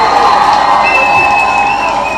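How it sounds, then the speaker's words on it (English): An audience breaks into a round of applause and cheering for a man, a dense, steady wash of clapping and crowd noise that holds for about two seconds without letting up. "You can give him a round of applause."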